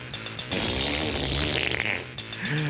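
A cow's flatulence: a loud, long, rumbling noise with a sputtering, buzzy texture, lasting a couple of seconds and ending with a short extra blurt.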